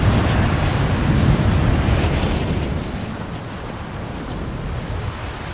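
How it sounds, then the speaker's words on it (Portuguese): A strong wind roars across a mountainside in Rise of the Tomb Raider. It is a loud, broad, steady rush that eases slightly partway through, with no talk. "Esse vento é absurdo!"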